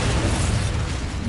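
A Bombarda spell detonates during combat in Hogwarts Legacy, a single loud, low, rumbling blast that stays dense and booming across the short moment.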